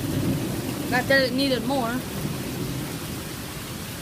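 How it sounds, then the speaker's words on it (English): Heavy rain pours in a steady hiss, with a low rumble of thunder underneath, while a person speaks briefly partway through. "the thunder was just really loud just a second ago"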